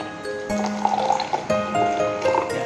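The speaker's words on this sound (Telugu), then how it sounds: "కొంచెం వాటర్ పోసి" Water poured into a glass of CollagenX collagen powder to make an orange-flavoured drink, a steady close trickle and splash lasting a few seconds with no talking.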